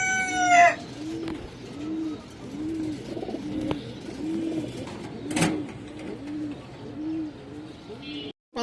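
A silver khaki male pigeon repeats soft, rhythmic coos close by, about a dozen even calls in a row, with brief bird chirps and a sharp bang partway through.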